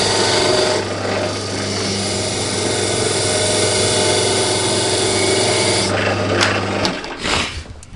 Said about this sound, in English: I used a scraper.